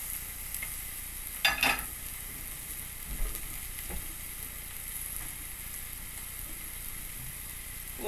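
Steak sizzles in a cast iron pan with a steady, moderate hiss, broken by a brief louder scrape as the meat is slid around.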